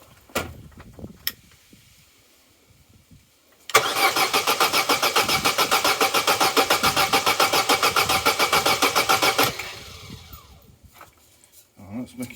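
A Vauxhall Corsa B engine cranks over for about six seconds without catching, a steady rhythmic churning of the starter, with brief clicks and handling noises before and after.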